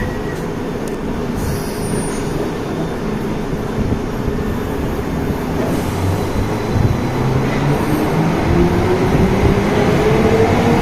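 A London Underground Piccadilly line train departs and gathers speed, a continuous heavy rumble from inside the carriage, growing slightly louder as a motor tone climbs steadily.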